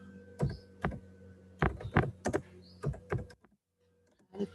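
Typing on a computer keyboard while entering a question paper title in a Google Form: bursts of sharp clicks in clusters with short pauses, close and moderately loud over a steady background hum, ending in a brief silence before more keystrokes.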